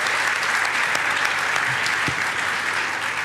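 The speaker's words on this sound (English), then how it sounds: "One big applause for our panelists" Conference audience applauding its panelists at the close of a session, a full, even wash of clapping that holds steady throughout, with a faint voice briefly audible beneath it.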